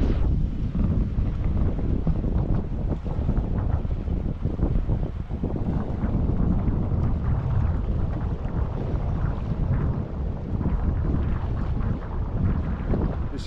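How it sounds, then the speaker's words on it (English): A sailboat heads into Amsterdam harbour, heard as a steady rush of wind buffeting the microphone over continuous water and hull noise, with no voices. "Sailing into Amsterdam, into the harbour."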